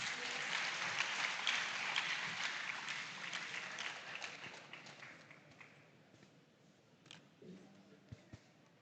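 An audience applauds at a school farm awards grand final, dense clapping from a crowd that swells early, then gradually thins and fades out, with a few faint knocks near the end.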